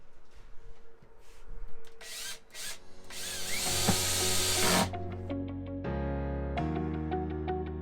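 Power drill driving the three screws into an Ikea Utrusta horizontal cabinet door hinge, in a few short bursts with a whine that rises and then steadies, close and fairly loud, with no talking.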